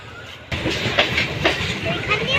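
A train rolls into a station, starting with a sudden loud onset and then a continuous rumble with rhythmic clacking wheels close by.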